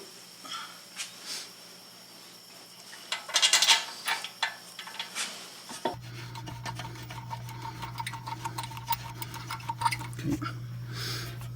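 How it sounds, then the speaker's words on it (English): Close, quiet mechanical clicking and ratcheting as bolts on an Audi A8 brake caliper are tightened, in irregular bursts over a low steady hum that begins partway through. "Those are the 2 bolts that I am tightening up right now."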